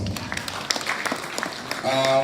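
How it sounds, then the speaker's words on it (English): Audience at an annual farming symposium applauding, scattered claps of moderate loudness for a couple of seconds, ending as a voice begins speaking. "Give yourselves a round of applause"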